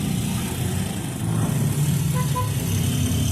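Steady road traffic in heavy rain on the way to an airport in the Philippines, a continuous close engine rumble with a faint high tone briefly standing out, no talking.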